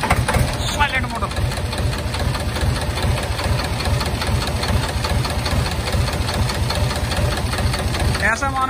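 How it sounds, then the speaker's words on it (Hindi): HMT 2522 tractor diesel engine idling steadily after a self-starter start, a loud, even low rumble with rapid knocking pulses throughout, and brief whirring bursts near the start and end. "देखो मार के सेल्फ एचएमटी 2522"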